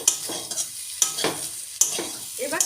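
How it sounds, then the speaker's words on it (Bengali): Tomato and soybean frying in a pan are stirred in a few distinct strokes, each a sharp clack and scrape over a soft background sizzle. "এবার টমেটো সোয়াবিন একটু নেড়ে নিই এর মধ্যে দিয়ে দেবো এবার সব কিছু আর একটু নেড়ে নেবো"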